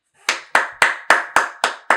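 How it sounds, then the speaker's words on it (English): Applause offered in tribute to NFL quarterback Gardner Minshew: a string of seven sharp, evenly spaced claps, loud and close, each ringing briefly before the next, with no voices. "everybody give a round of applause for Gardner Minshew for not throwing an interception"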